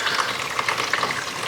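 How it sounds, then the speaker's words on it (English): Rainwater pouring from a pipe into empty IBC tanks at an off-grid garden, a steady close splashing gush that fills the whole stretch. "Filling up with water."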